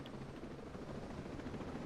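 Helicopter in the Ghost Recon Breakpoint video game, a steady close rotor and engine drone with a low rhythmic thrum, filling the whole stretch at an even level with no talk over it.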